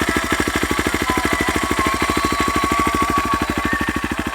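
A Kawasaki KLX 230R motorcycle engine idles close by with a rapid, steady thumping rhythm and a faint high whine running through it.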